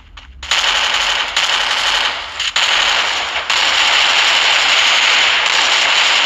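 Gunfire from the mobile battle-royale game Free Fire: a loud, dense burst of rapid automatic shots runs almost the whole time, with brief dips before it surges back and keeps firing.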